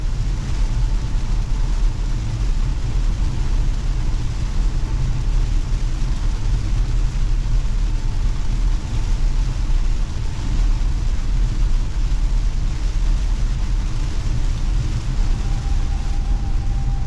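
A Tesla drives on a wet road in heavy rain, with a steady, loud broadband rush of tire spray and rain over a low continuous road rumble, unchanging throughout.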